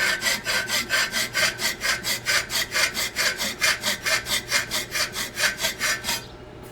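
A hand file rasps rhythmically across a forged steel horseshoe toe clip, cutting a back bevel in about twenty even, close push strokes at a steady pace with no talking.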